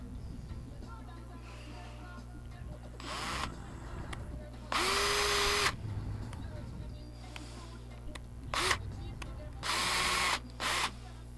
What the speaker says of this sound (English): When you can feel the screw poking on the other side of the hose, that's where it's time to stop running it.